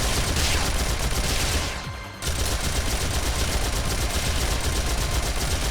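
A turret in Phantasy Star Online 2 firing at enemies, producing a loud, dense stream of rapid automatic shots that pauses briefly and then resumes just as fast and unbroken, with no talking.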